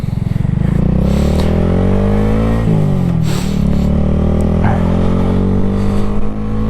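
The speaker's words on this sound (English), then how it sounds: "the Honda Grom, it's such a fun little bike" A small Honda Grom motorcycle engine runs loud and close throughout a ride, its pitch climbing steadily through the gears with a brief dip and shift before rising again, with wind noise and no talking.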